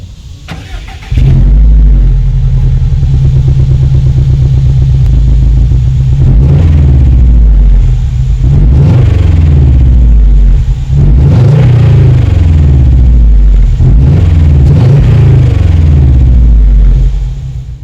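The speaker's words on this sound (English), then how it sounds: "WRX STI exhaust clip." A 2019 Subaru WRX STI revs through its exhaust: after a quiet start the engine catches and idles loudly, then climbs through several sharp rising revs, each falling back to a rumbling idle. No one speaks.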